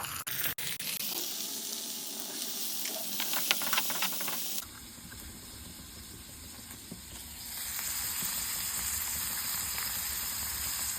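Onions and cluster beans fry in a pan, giving a steady sizzling hiss that shifts partway through as the beans are added, then settles into a constant, moderately loud frying sound.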